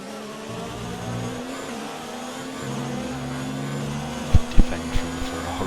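Formula 1 race car engines whine in the F1 2019 game at Bahrain, a steady droning roar with shifting pitch as Ferraris close behind, then a few sharp thumps near the end.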